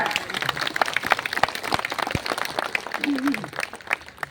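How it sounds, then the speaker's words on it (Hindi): Crowd applause welcoming a guest at the office inauguration of Agra's Bhim Nagari celebration committee, scattered hand claps in an irregular patter, fairly close, with a voice briefly rising partway through. "उनका जोरदार तालियों से स्वागत किया जाए।"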